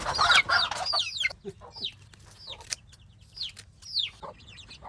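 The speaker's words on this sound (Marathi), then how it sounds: "हा कोंबडा आहे" A young rooster with clipped wings clucking in short repeated bursts, fairly close, with scattered chirps and quiet gaps between calls and no talking.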